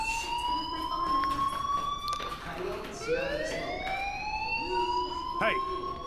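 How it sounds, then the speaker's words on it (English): In Life Is Strange, a fire alarm wails in rising and falling siren sweeps, loud and continuous, with game sounds and talk mixed underneath. "do you hear that fire alarm? That means you should be outside."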